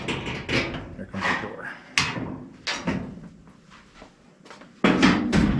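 Removing the door panel of a GE washing machine with a screwdriver, producing a series of sharp plastic and metal knocks, clicks and a final louder clunk, with someone talking between them.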